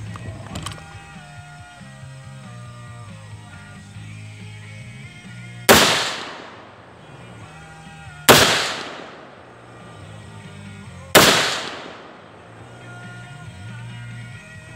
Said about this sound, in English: live fire on the range, shooting down range